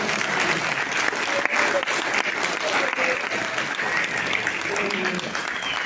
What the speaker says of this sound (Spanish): La verdad que eso yo creo que merece un gran aplauso